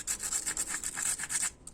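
Rhythmic rubbing strokes smooth down a screwdriver nick on a rear Brembo brake caliper from an Evo 8-9, a quick close series of scratchy passes that stops abruptly.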